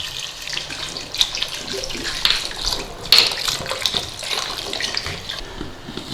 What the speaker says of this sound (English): So in with some water.